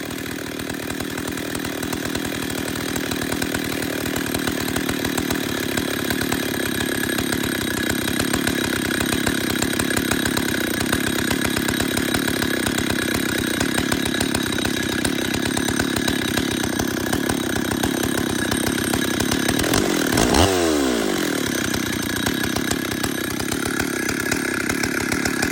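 A chainsaw with a loose chain runs steadily at high revs for a long stretch, a loud buzzing drone that briefly dips and swoops near the end before resuming.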